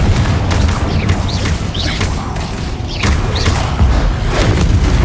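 Confringo fire spell blasts from Hogwarts Legacy go off in repeated bursts through a loud, dense stretch of spell combat, with booming impacts and whooshing chirps layered over a constant low rumble.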